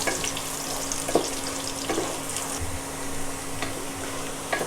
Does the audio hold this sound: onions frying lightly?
yes